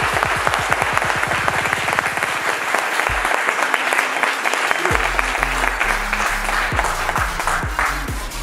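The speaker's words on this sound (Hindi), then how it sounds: "जोरदार तालियां होनी चाहिए।" Workshop attendees at Chail, Himachal Pradesh, clap for a birthday, with loud, close strikes that quicken into a rapid patter, briefly thin out, then resume as rhythmic clapping over a sustained tonal sound.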